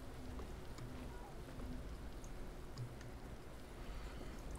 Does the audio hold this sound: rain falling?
yes